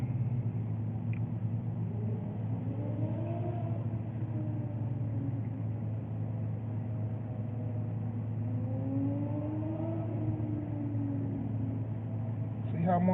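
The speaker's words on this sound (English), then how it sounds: "See how motherfuckers goosing the engine and shit?" A car engine idles with a low, steady rumble and is revved a few times, its pitch climbing and falling in two slow swells, heard at a moderate level throughout.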